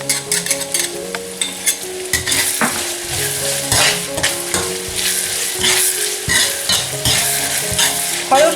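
Oyster sauce stir-fried in a wok with scallion and garlic, for Sichuan-style fish slices in hot chili oil: loud bright sizzling with repeated metallic spatula scrapes and knocks against the wok.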